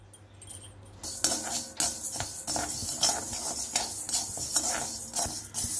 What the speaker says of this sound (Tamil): இப்போ நல்லா வாசம் வர வரைக்கும் நம்ம வறுத்துட்டோம்.